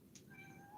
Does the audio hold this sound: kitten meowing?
yes